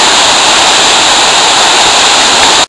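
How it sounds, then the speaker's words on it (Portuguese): Water crashes down a waterfall in the Garganta do Silveirão gorge as a loud, constant hiss-like roar, cutting off abruptly at the very end. "Lá tem uma cachoeira lateral, lá no fundão"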